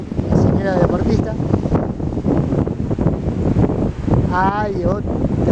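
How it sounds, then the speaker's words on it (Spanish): Wind and sea waves on the Mar del Plata coast after a storm, a loud continuous roar of gusts and surf buffeting the microphone, with people talking over it. "qué lindo Mar del Plata, se ve a lo lejos, qué lindo que está el mar"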